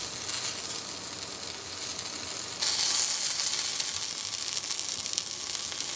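Tomato dish searing in an oil-coated hot pan, a loud continuous close sizzle that jumps brighter and harsher partway through and then carries on steadily.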